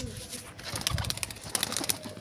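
Several domestic pigeons coo softly nearby as they are released, with faint rustling and a few light clicks mixed in, fairly quiet overall.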